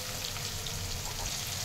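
Curry leaves, bay leaf, onion and spices fry in a little oil with salt in a pan for dal khichdi, a soft, even sizzle with no talk.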